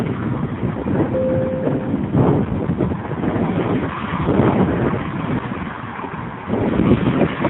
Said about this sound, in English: It's just been windy